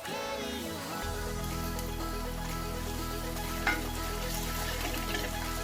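Ginger and garlic paste cooking in a pan, a loud continuous sizzle that jumps up as the paste hits the oil and then holds steady, with a faint clink midway.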